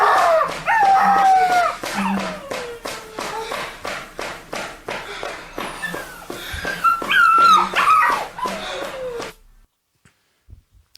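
A distressed dog, a Siberian Husky, whimpers, yips and howls in a rapid run of high, close cries, ending abruptly in near silence.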